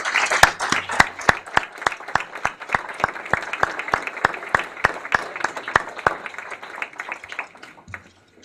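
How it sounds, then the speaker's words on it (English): A round of applause for Millville Sports Hall of Fame members at a Thunderbolt Club induction ceremony, a steady room-filling clatter of many hands with sharp individual claps standing out, gradually thinning before it stops near the end. "a round of applause for everybody in that Hall of Fame"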